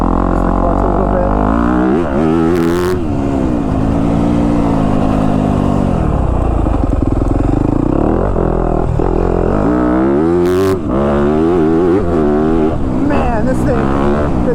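A Yamaha YZ250F Monster Energy Edition motocross bike being ridden, its engine revving and rising and falling in pitch through gear changes, loud and close, with people talking over it.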